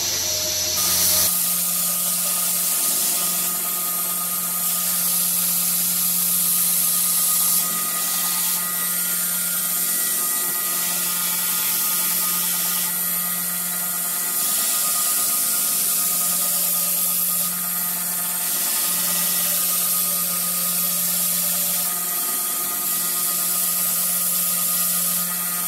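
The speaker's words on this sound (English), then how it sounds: "giving it a couple of seconds to grind and then having a look at the results of that grind" Steady, continuous grinding of a forged steel herb cutter blade on a powered grinder, a constant whirring hum with a rough abrasive hiss that holds for the whole stretch, close and unbroken, with no talking.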